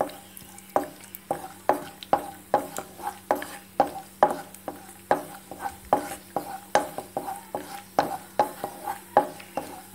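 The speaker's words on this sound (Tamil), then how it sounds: "முந்திரி பருப்பை போட்டு கொஞ்சம் ஒரு ட்ரை ஆக்கிக்கலாம்." Cashew nuts being roasted in melted ghee in a pan: a spoon taps and scrapes in a fast, even rhythm, two or three strokes a second, over a faint low sizzle. The sound is close and alone.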